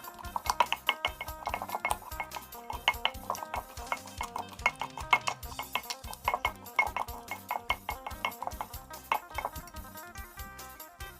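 Pestle pounding fermented fish (pla ra) in a mortar for a spicy Isan-style chopped fermented fish dish, giving a steady run of sharp, close knocks and thuds that repeat without pause and with no talking.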